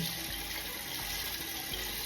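Running tap water splashes steadily over a fude makeup brush being rinsed at a sink, a continuous close hiss with no talk.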